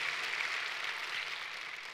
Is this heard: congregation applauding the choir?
yes